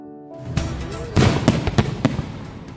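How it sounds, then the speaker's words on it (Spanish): Fireworks from a pyrotechnics maker in the Alpujarra go off in a run of sharp, loud bangs and crackles, several distinct blasts spread over a few seconds, with faint voices underneath. "Este es el sonido de la pirotécnica alpujarreña."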